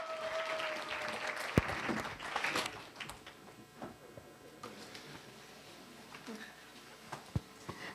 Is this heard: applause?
yes